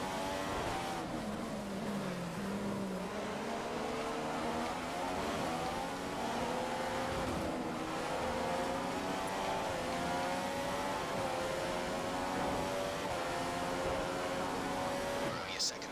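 F1 car engine in the F1 2015 game at the Australian Grand Prix, running hot during a race, drones steadily with a rising and falling pitch throughout, under intermittent commentary-style talk.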